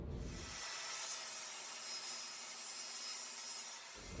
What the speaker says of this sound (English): So I've set the fence on the table saw to just be a hair under 13 inches.